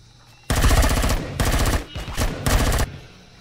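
Rapid automatic gunfire from the Empyrion video game rings out in three or four loud, clipped bursts over about two and a half seconds while shooting at dinosaurs, with no voices.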